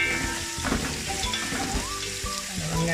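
Thinly sliced onions, two medium ones, fry in oil for a biryani, giving a steady close sizzle with occasional stirring scrapes and no voices.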